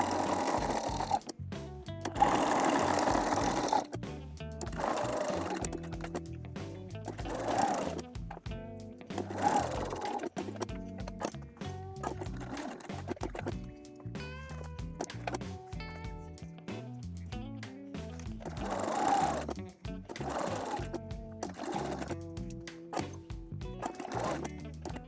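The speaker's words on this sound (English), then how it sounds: "so now I will top stitch it all around" A sewing machine top stitches the hem of a tube top, running in several bursts of rapid mechanical whirring with short pauses between them, close up and fairly loud, with no speech.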